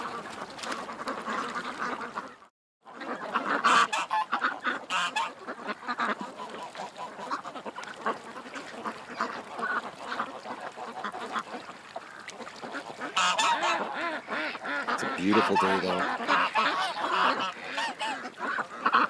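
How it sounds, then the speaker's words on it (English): A large flock of ducks and geese, several hundred birds, honks and quacks in a dense overlapping chorus, loud and near, with a brief silent gap early on and a person speaking at one point. "let's go visit the ducks"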